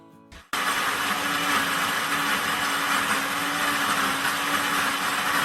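An Instant Ace Plus blender motor kicks in after a brief quiet moment and runs loud and steady on a smoothie program, a continuous high-pitched whir with no talk.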